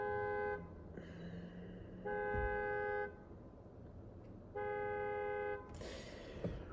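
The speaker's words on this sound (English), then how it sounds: "It's a fucking car alarm." Car alarm outside blaring in repeated loud tonal bursts, each about a second long with quieter gaps between, heard from inside a vehicle against low background rumble.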